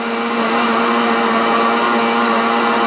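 A blender whirs steadily at high speed, loud and close, blending carrots with juice and oil for a carrot cake batter, a continuous motor drone with no breaks.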